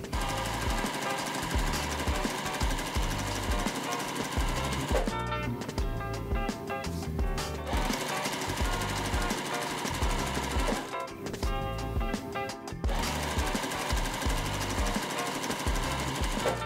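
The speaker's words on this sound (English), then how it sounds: "Right sides together, sew them all the way down" A sewing machine stitches quilt strip sets, right sides together, its needle hammering in a fast, loud, continuous rattle that pauses briefly twice before running on.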